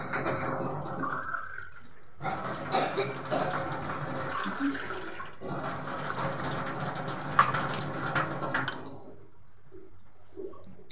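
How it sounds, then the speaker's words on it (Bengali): Broken wheat (dalia) being washed in water by hand in a home kitchen while making Bengali puli pitha, with sloshing, swishing and trickling in two long close bursts and a quiet pause between them. "ডালিয়াটাকে ভালো করে ধুয়ে জল নিংড়ে তারপর সাথে সাথেই দিয়ে দেওয়া হবে।"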